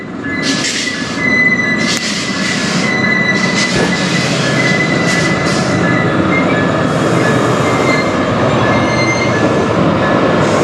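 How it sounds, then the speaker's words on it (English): A CN freight train rolls past on the Strathroy Subdivision, the rear locomotive and cars rumbling loud and close with steady wheel noise and high squeals of steel wheels on the rails. "This is the rear loco."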